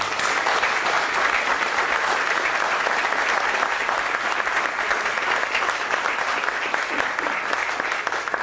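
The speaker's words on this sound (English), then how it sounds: "Please give our NOAA Corps a round of applause." Steady, dense applause from a large audience at a groundbreaking ceremony, loud and continuous throughout with no break.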